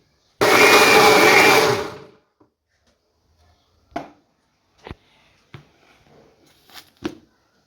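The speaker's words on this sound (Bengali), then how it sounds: "এবার ব্লেন্ড করতে হবে" A kitchen blender whirs loudly for about a second and a half, blending aloe vera with turmeric and oil, then stops abruptly, followed by a few scattered clicks and taps.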